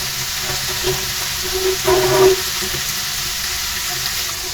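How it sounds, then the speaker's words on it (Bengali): Hot water poured into a pan of fried broiler chicken pieces cooking in spices, giving a brief louder sizzling splash in the middle of a steady low frying hiss. "এখন অল্প কিছু গরম পানি দিয়ে দিচ্ছি মাংসটাকে কষানোর জন্য।"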